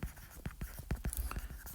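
Marker or chalk scratches across a classroom board in a short burst of quick, close strokes with soft squeaks, fairly quiet and without talk over it.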